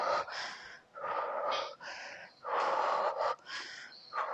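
Someone doing an ab exercise breathes out heavily in repeated forceful rasping breaths, close to the microphone, several in a row with short pauses between them.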